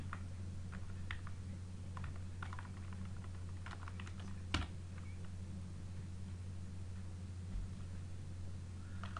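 Computer keyboard typing, used with a screen reader to enter Hindi words, a steady patter of close, quiet key clicks with one sharper tap midway, over a low constant hum; no talk.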